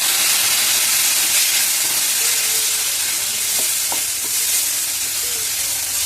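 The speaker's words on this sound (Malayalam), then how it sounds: "മുളക് പൊടി മഞ്ഞൾപ്പൊടിയും മൂത്ത് വരുമ്പോൾ നമുക്ക് തക്കാളി ചേർക്കാം" Tomatoes hit sizzling chili and turmeric powder in a pan for tomato chutney, a loud, steady close-up frying hiss with faint stirring scrapes and no voices.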